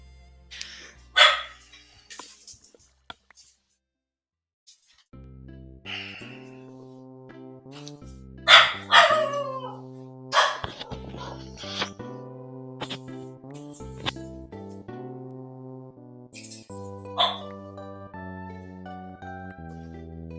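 Several dogs bark in loud bursts, with high yelps and a long howl-like whine in a Minecraft Sky Factory world, set over a steady synth melody with pauses.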